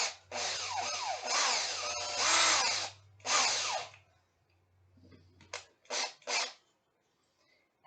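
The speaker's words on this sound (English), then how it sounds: "We'll take the wooden drill bit" A power drill with a wood bit bores holes through wood in several whining bursts, long at first and then shorter, close and fairly loud, with quiet gaps between them.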